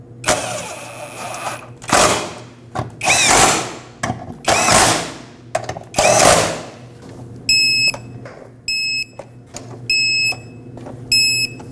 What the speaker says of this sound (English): we'll torque these to 18 foot-pounds as well